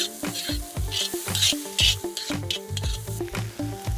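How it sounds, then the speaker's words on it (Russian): A spoon stirs and scrapes rhythmically through a thick mixture of beans and flour in a hot pan, with a continuous sizzle beneath the repeated strokes. "И тоже хорошенечко перемешать с мукой."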